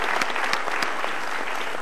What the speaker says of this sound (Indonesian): Kita berikan tepuk tangan untuk jawaban Anda.